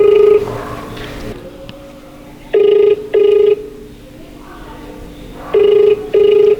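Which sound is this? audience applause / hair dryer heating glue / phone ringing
phone ringing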